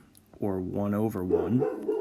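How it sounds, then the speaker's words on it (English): A pet dog barks at squirrels through a front door at home, a few yelping barks with a whiny, tonal quality close by, while a person keeps talking over them. "my dog, if you can hear him, he's barking at squirrels through the front door"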